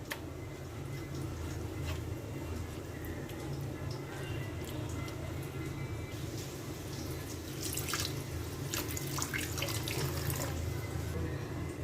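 Water poured into a pan of mustard-coated hilsa fish; a soft continuous splashing trickle with a low background hum throughout, faint and close, swelling slightly near the end.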